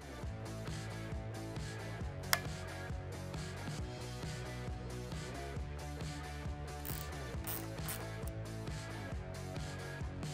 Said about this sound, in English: So here I'm using a fat wrench.